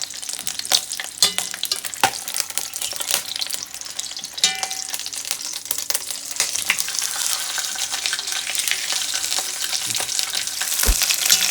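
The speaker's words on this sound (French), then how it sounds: "un petit peu d'huile d'olive, dans la cocotte, pour la faire dorer" Meat browning in olive oil inside a cocotte gives a steady, close sizzle and frying crackle that builds toward the end, with scattered stirring clinks and scrapes and no talking.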